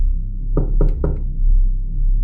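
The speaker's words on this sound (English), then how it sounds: "Who would be knocking at my door?" Three sharp, evenly spaced knocks on a door in the small hours, close and loud, followed by quiet.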